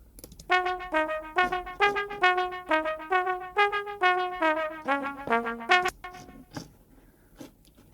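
Trombone carrying a guitar line from a Pro Tools session, a run of clean, sustained melodic notes in a steady phrase that fades into a brief tail, heard alone without talk.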